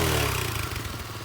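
A restored candy apple red Honda Trail Monkey 110cc mini bike engine idles with the choke off, a close, steady mechanical putter with light clatter, settling slightly lower over the short stretch.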